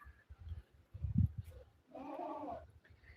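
A goat gives one loud, wavering bleat close by, after some low thumps and rustling.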